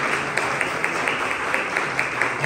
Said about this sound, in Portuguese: a igreja aplauda o Senhor